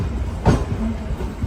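A MEMU train runs along the Narsapur–Bhimavaram line near a quiet station platform, giving a close, low rumble with one louder rattling clack midway through the short stretch.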